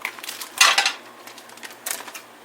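Beef goes into a pan with sesame oil, giving a few short clattering, rattling bursts of meat and utensil against the pan, loudest near the start, with quieter scrapes after and no talking.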